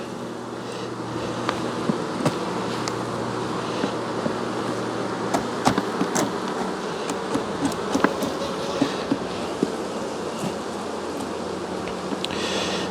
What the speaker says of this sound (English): cluster of bees